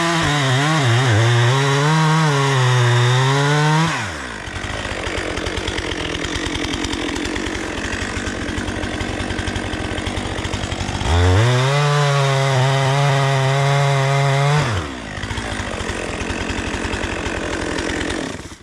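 Up close, a Stihl 400C-M chainsaw bucks red oak firewood, alternating between high-pitched idle revving and long, loud bogged-down passages as the fresh chain bites through the log, twice in succession.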